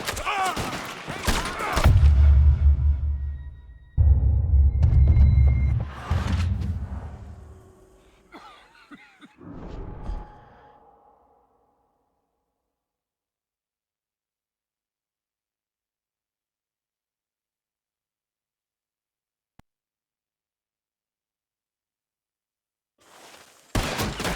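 Gunfire from the video game Red Dead Redemption 2, a cluster of loud shots and thumps over the first ten seconds mixed with voices, then near silence apart from a brief burst at the very end.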